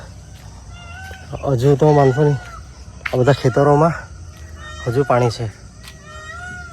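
Peacocks call from waterlogged farm fields in the monsoon, a few faint cries carrying in the background while someone talks over them in the foreground.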